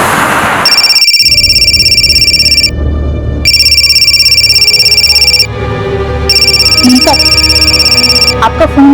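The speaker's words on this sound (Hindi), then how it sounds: "आपका फोन बहुत बज रहा है।" A telephone rings repeatedly in loud, steady electronic bursts with short pauses between them, over a low background hum; voices murmur faintly near the end.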